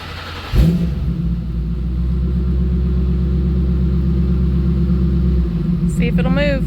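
A 1963 Ford F100 unibody pickup, starting after thirty years unused, fires up with a sudden burst then settles into a steady, loud, low rumbling idle close by, with a person talking briefly near the end.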